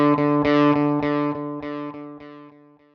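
A distorted electric guitar picks a steady run of eighth notes on one sustained chord, about a dozen even plucks that fade little by little toward the end. It plays clear and close with no talking.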